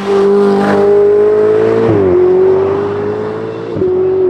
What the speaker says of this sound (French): ce son très spécifique sur les Ferrari Turbo, cette espèce de souffle de turbine